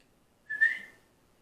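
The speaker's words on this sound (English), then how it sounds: "Every time you whistle like that, she just comes running like a good puppy." A single short, bright whistle from a person calling a dog outdoors, rising sharply and fading within about a second, clear and fairly close against a quiet background.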